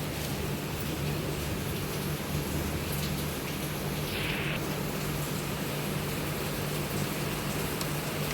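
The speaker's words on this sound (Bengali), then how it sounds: "দেখো তো বৃষ্টি জোরে হচ্ছে।" Heavy rain pours at night, a dense, constant roar of drops falling on surfaces nearby, with a faint hum underneath and no voices.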